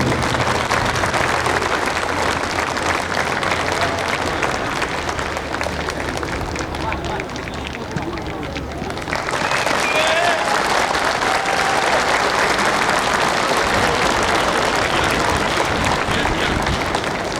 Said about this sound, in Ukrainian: Привітаємо оплесками дружнього українського воїна